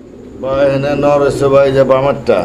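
A male Lahori pigeon coos close by in a loud, throaty, rolling call that swells and dips over a couple of seconds.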